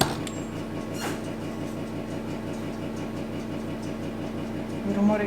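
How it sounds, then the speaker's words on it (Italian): A fan oven running in a home kitchen while a tray of carnival pastries bakes, a faint steady whir with a regular pulsing hum, plus a couple of light clinks early on. "Il rumore che sentite è il forno ventilato che è acceso perché ho già infornato una teglia."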